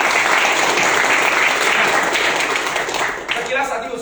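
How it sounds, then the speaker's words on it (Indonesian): A meetup audience applauds, a dense steady burst of clapping that runs loud for a few seconds and then begins to thin out near the end. "Tepuk tangan untuk kayak gini."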